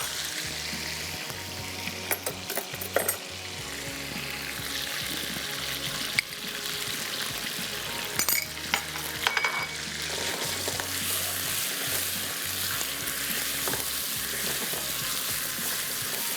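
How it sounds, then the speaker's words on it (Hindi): Kunna paya meat with ginger and salt sizzles and fries in a pan, a dense continuous crackle broken by scraping stirs, close and steady throughout. "इस स्टेज पे भूनते हुए इसमें शामिल करेंगे नमक"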